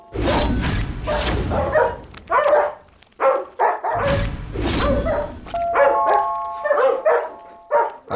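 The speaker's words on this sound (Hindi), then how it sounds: "आखिर कुत्ते भौंक क्यों रहे हैं?" Several dogs bark repeatedly in a dubbed Hindi action movie scene, loud close woofs and yips coming in uneven bursts with short pauses, over a steady high tone and no speech.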